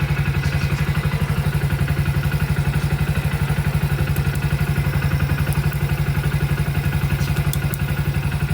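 A Hero Splendor Plus BS6 motorcycle engine idles steadily nearby, its rapid, even chugging pulses running without a break.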